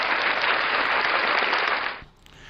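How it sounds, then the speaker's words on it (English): A crowd gives a round of applause, a dense, steady wash of clapping that fades out after about two seconds. "Let's give another round of applause to them."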